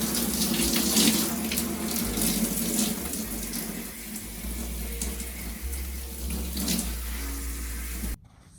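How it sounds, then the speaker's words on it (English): Tap water runs steadily into a sink while relaxed hair is rinsed, a continuous close splashing flow that cuts off near the end. "he just took it off and he's going to rinse"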